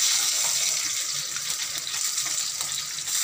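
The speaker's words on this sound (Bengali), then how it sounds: "মাছ ভাজা চলছে" Fish fries in a home kitchen pan with a bright, continuous hiss of oil, close and steady throughout, with no voices.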